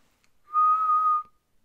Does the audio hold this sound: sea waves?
no